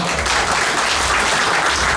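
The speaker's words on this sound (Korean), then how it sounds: "사산의 정진구 대장님 뜨거운 박수로 맞으십시오." A hall full of guests claps loudly and continuously to welcome a guest at a rhythm dance academy's opening ceremony, a thick, even wash of applause with no break.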